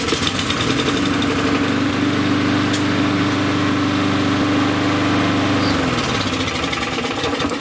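A lawn mower engine runs loud and close at a steady high idle after its governor spring is adjusted, with a constant droning hum and vibration that shifts pitch near the end.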